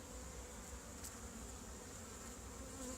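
Honey bees buzzing around a hive, a faint continuous hum of many insects with occasional louder passes close by, no voices.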